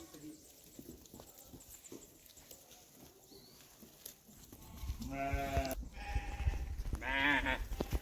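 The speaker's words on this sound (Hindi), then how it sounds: "देखो ये बकरा खाडू। इसे कहते हैं भेड़ चाल।" Sheep and goats on a misty mountain trail toward Churdhar bleat several times close by. The calls come late over steady outdoor noise, with people talking throughout.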